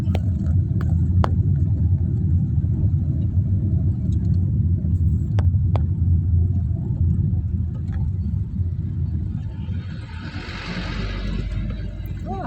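A 2008 Honda Jazz drives steadily along a narrow road with a low, continuous engine and road rumble, heard from inside, with faint clicks and a brief whoosh near the end.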